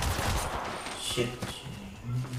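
A big sniper rifle fires in the video game Apex Legends, with sharp gunfire reports and a rattle of shots in the mix, while a person talks over the game.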